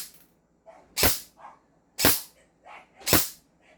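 Three sharp airsoft gun shots from a ZionArms rifle, spaced about a second apart, each a loud snappy crack with a short tail and faint clicks between.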